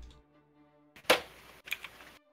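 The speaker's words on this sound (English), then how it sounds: "Oh, somebody set something down. I think it was a phone." A phone set down on a table lands with a sharp close knock, followed by a second fainter tap, amid a quiet room.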